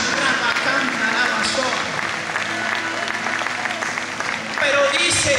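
A church congregation claps and cheers through dense, steady applause, with a brief swell near the end; voices call out within the crowd noise.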